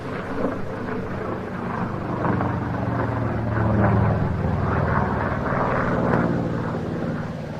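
A vintage former target-tug aircraft makes its final low pass at the Jersey International Air Display. The engine drone rises steadily to a loud peak and then slowly fades, alone with no talk.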